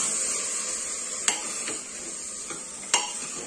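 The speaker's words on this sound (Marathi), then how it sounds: "एक अर्धा मिनिट आपण हे असंच तेलावर छान असं परतून घेणार आहोत" Moth beans (matki) sauté in hot oil for a spicy rassa bhaji, a steady soft sizzle running underneath while a spoon stirs and scrapes, with a few sharp metallic clinks against the pan.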